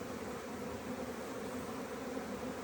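Honey bees massed on a hive box during a hive split, a dense, even buzzing hum that stays steady and close for the whole short stretch.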